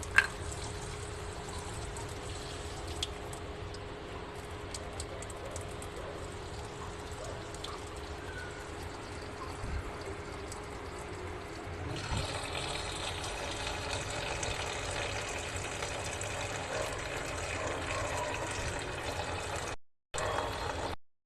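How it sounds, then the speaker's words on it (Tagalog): Water runs steadily into a cooking pot for sinigang with kamias and galunggong, a faint continuous splashing pour that grows slightly fuller partway through, then cuts off briefly near the end. "Tara, lagyan na natin ng tubig."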